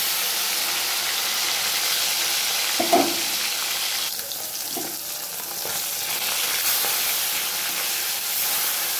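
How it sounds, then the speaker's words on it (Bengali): Pieces of rohu fish fry in hot oil in a wok, giving a steady, close, hissing sizzle that lasts throughout. A couple of faint clicks from stirring or turning come through, and nobody talks. "মাছটাকে আমি লাল লাল করে ভেজে নেব।"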